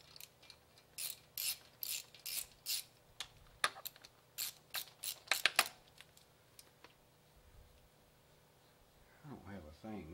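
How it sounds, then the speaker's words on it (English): A wrench ratchets out valve cover screws on a Honda ST1100 V4 motorcycle, a series of short clicking ratchet bursts in quick rhythm, close by, then a brief voice near the end. "Get a wrench here and take these valve cover"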